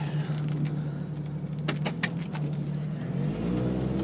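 A Jeep YJ engine idling with a steady low hum, rising briefly into a couple of revs and settling again, close and fairly loud with a deeper swell near the end.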